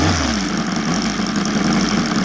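An OS Sirius 7 FR7-420 seven-cylinder gasoline radial engine on a model plane runs steadily as the aircraft taxis, a loud, close, even buzzing drone with no pauses.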